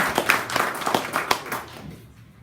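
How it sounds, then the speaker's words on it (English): Applause at a weekly meeting: a short burst of scattered hand claps from a small group in a room, fading out after about two seconds. "Let's give him an extra round of applause."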